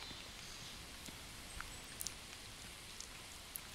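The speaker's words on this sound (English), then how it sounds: "It's raining, isn't it?" Steady, faint rain hisses throughout, with a few scattered drops tapping nearby.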